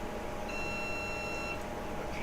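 A kitchen timer beeps as a steady, faint high tone that runs for about a second. It sits over a low kitchen background while a homemade pizza is being made.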